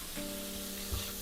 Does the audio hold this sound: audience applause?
no